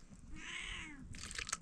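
A cat near a jungle hut where a family is cooking dinner gives one drawn-out, rising-and-falling meow, fairly close, followed by a brief burst of rustling clatter.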